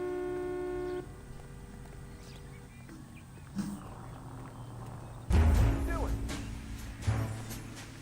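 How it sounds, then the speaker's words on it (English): Car horns honking at a city intersection in the video game L.A. Noire: a sustained horn blast at first, then softer toots and engine noise over traffic ambience, with a louder burst of street noise later. "If I'm causing a whole bunch of people honking because I'm in the middle of an intersection"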